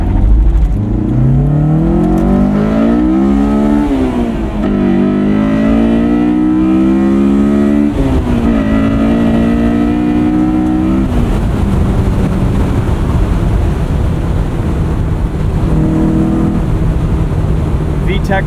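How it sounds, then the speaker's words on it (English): A 2001 Honda S2000 engine revs hard and climbs into VTEC several times, loud and close, each rising pull sweeping up in pitch before dropping off, then settling into a rough idle toward the end. "VTEC trumpets of glory"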